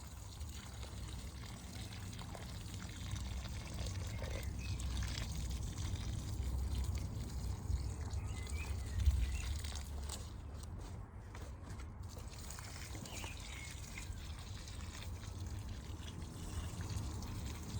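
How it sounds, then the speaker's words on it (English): Garden plants being watered with diluted liquid feed from a barrel, a continuous soft pouring and trickling of water with low rumble and a few light footsteps, steady and close. "just give these a quick water"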